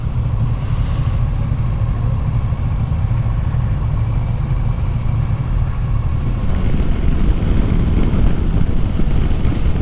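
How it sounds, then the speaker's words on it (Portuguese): A Kawasaki Versys 650 motorcycle engine drones steadily beneath rushing wind noise while riding, a constant low rumble that swells slightly toward the end, with no speech. "Essa aqui é uma moto que tem uma aceleração bem suave, viu?"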